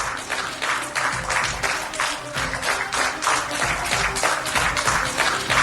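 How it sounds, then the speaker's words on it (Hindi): Ministers applauding and thumping their tables in a parliamentary hall to welcome Prime Minister Narendra Modi, a dense, continuous roll of clapping and table taps sustained throughout at a steady level. "मंत्रियों ने मेज थपथपाकर और तालियां बजाकर उनका भव्य स्वागत और अभिनंदन किया।"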